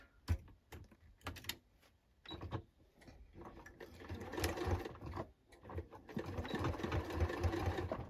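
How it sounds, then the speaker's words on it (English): A sewing machine stitches a denim jacket near the side seam in short, quiet bursts, the needle chattering in starts and stops before a longer, steadier run toward the end. "I'll just finish those few stitches by the side seam."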